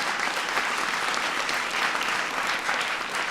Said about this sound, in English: Give John a big round of applause